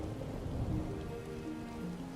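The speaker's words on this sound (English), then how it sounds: "And now the weather decides to make it rainy." Rain falls in Final Fantasy XIV, a soft, steady patter that stays faint and even, with a low rumble early on and no voices.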